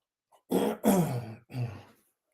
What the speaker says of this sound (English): while I take a drink and clear my throat a little bit